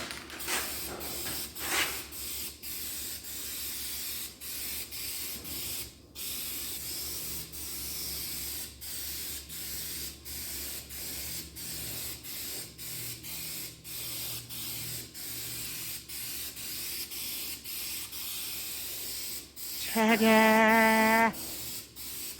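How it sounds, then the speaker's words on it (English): An aerosol rattle can sprays paint onto parts in a garage, a steady close hiss running nearly unbroken for about twenty seconds with brief pauses and clicks, ending in a short buzzing rattle. "Rattle can, baby. Rattle can."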